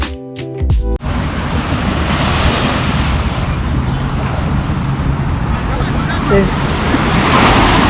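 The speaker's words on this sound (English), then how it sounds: "We are at the beach." Waves and wind at a Chicago beach make a loud, constant wash of noise with heavy wind rumble on the microphone. A brief voice is heard at the very start, then the roar continues steadily on its own.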